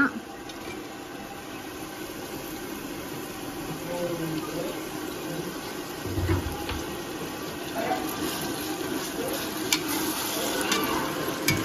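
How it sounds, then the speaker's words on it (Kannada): Green chillies and tomato fry in Amul butter in a pan: a steady sizzle runs throughout, while a spoon stirs and scrapes now and then, close and moderately loud. "ಹಸಿಮೆಣಸಿನ್ಕಾಯಿ ಹಾಕಿ ಚೆನ್ನಾಗಿ ಫ್ರೈ ಮಾಡ್ಕೊಳ್ಳಿ"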